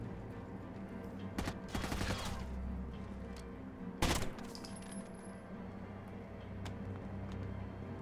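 Bursts of G3 rifle fire in Rainbow Six Vegas on a casino floor: a short volley, a sharp loud crack a couple of seconds later, then a few scattered shots under a steady game background hum.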